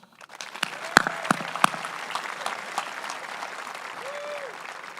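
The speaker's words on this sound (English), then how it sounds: "I would love to recognize that thanks with another round of applause." Audience applause fills a graduation ceremony for a high school's class of 2022, a steady wash of many hands clapping with a few sharper nearby claps and faint murmurs underneath.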